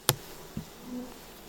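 Black honeybees, the native northern European species, buzzing around a newly installed hive, a sharp tap then a low wavering hum drifting close and fading, no voices.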